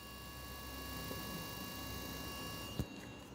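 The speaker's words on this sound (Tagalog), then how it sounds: "Pakinggan nyo yung motor niya." The electric motor of a handheld device running, a steady, even mechanical whine with a constant pitch, close and alone, with one brief click near the end.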